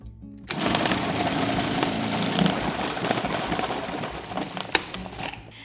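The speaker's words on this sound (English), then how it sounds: "I'm gonna use my food processor to grate this." A food processor grates 16 ounces of sharp cheddar cheese, a steady whirring and rattling grind running for several seconds after starting abruptly, with a sharp knock near the end.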